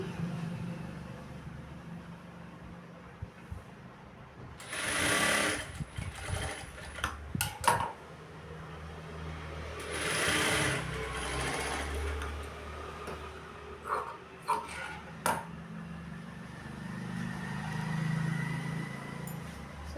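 A sewing machine stitches a blouse lining in loud, short whirring bursts, each lasting a few seconds and separated by quieter pauses with faint handling noises.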